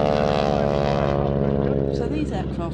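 A propeller aircraft drones loudly and steadily overhead during a flying display at the Midlands Air Festival, its engine tone filling the air from start to finish, with people talking faintly beneath it.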